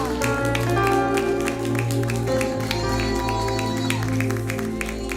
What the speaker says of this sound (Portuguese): Aplauda o nome de Jesus